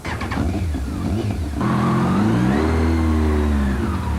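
A Kawasaki ZX-12R motorcycle accelerates hard, its engine revving up through a rising roar that grows loud and sustained.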